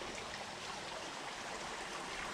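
A small creek flows steadily over shallow ripples on a winter day, giving a continuous, close, fairly quiet rushing babble with no talk.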